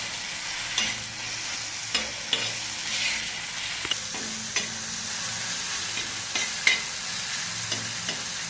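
Onion, green chilli, garlic and salt stirred together for mung chutney, with a soft constant hiss and a series of regular scraping taps from the spoon, close and fairly quiet.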